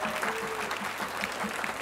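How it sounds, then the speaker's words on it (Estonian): An outdoor audience at a village craft fair concert at Vanamõisa, Estonia, applauds in a dense, continuous patter of many hands, moderately loud and steady throughout. "Suur aplaus kõigile meile toetajatele."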